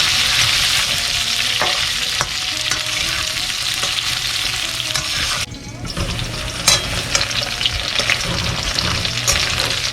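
Pumpkin and moringa drumsticks stir-fried in a hot pan, a loud continuous sizzle with scraping spatula strokes and a brief dip in the frying noise partway through.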